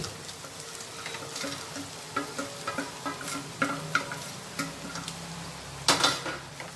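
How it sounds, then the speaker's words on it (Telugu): Chicken sizzles lightly with onions and ginger-garlic paste in a pan for a restaurant-style chicken dish. A continuous fry hiss is broken by repeated scraping stirs and clinks of the spatula against the pan, close and distinct. "ఈ చికెన్ని కొద్దిసేపు ఈ ఆనియన్స్తో పాటు లైట్గా ఫ్రై చేసుకోవాలి"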